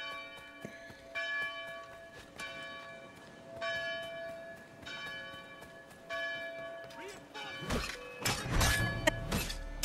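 A church bell tolls again and again in Assassin's Creed III, strikes spaced a second or two apart and ringing over a dim battlefield bed, before a loud crash or burst of noise near the end.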